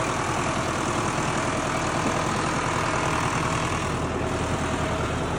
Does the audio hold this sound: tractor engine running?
yes